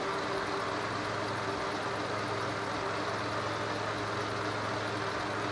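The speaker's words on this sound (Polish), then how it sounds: "Teraz mamy auto odpalone, chodzi sobie na jałowym biegu." A Seat 1.6 petrol car engine idles steadily, a continuous close rumble and hum with no change in pace throughout.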